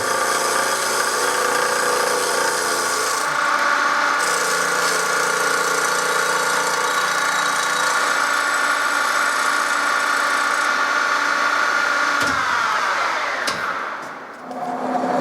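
Steady, loud machining whine from a milling machine facing a flat on a compressor part, with a sustained engine-like drone and dense metallic harmonics, running continuously before winding down near the end.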